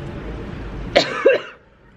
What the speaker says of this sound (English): I just needed a cough